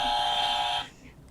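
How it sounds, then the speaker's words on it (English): A game-show style buzzer gives a single loud, harsh electronic buzz lasting under a second, then cuts off into quiet room tone. "Hit the buzzer."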